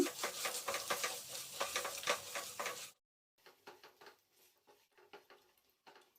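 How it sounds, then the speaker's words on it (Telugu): Turmeric and grated fresh coconut fry in a pan for a flattened-rice (poha) offering: loud sizzling with steady spoon stirring for about three seconds, a brief silence, then quieter intermittent scraping stirs. "రెండు స్పూన్ల వరకు పచ్చి కొబ్బరి తురుము వేసి ఒక నిమిషం పాటు వేయించుకోవాలి"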